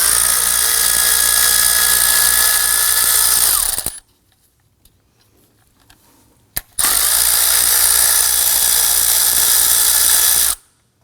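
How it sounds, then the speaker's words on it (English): A power tool drives an 8mm socket to loosen bolts on a Volvo XC90, with two loud, steady whirring bursts close by and a quiet pause between them. "we'll use our 8mm socket to loosen and remove these two bolts."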